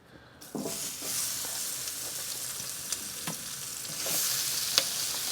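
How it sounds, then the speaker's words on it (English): Peppers and onions sizzle and crackle steadily on a hot grill, a continuous hissing fry with occasional sharper pops and scraping. "Check out, listen to this sizzle."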